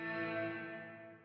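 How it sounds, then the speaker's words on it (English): Line 6 Helix bloom reverb with a longer pre-delay swelling in on a guitar chord, a sustained shimmering tone that rises and then slowly fades, heard alone without talk. "reverb with a bit of a longer pre-delay, so the reverb doesn't come in right away, but it blooms in, or it rises in, it swells in"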